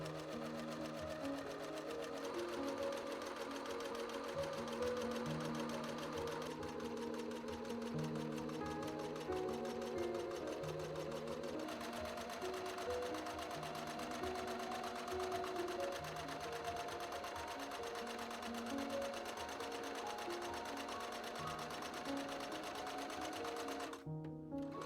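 A sewing machine stitches a homemade Gir onesie in Invader Zim lounge style. Its motor whirs continuously, and the needle chatters quickly as the speed shifts up and down, then it stops abruptly at the end.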